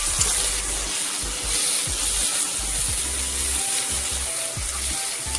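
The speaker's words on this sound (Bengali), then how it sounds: "এবারে দেবো পেঁয়াজ আর পাঁচ ফোড়ন বাটা অল্প পরিমাণে।" Onion and panch phoron paste sizzle in hot oil in a pan, a close, steady frying crackle with a few sharp clinks and scrapes of a utensil, and no voices.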